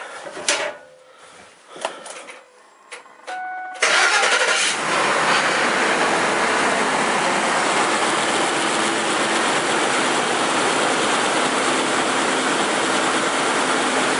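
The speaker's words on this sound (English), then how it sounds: "So we'll go ahead and crank this over and we'll see how it sounds." A Ford Explorer 4.6-litre V8, just back together after a timing chain repair, cranks for a few seconds in short uneven bursts, then fires and settles into a loud, steady, close-up idle that runs on alone.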